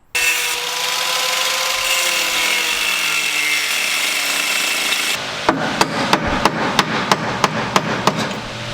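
A hammer drives a rusted, stuck rack and pinion out of a small car: a steady droning hum first, then about ten sharp, evenly spaced metallic blows ringing out close up.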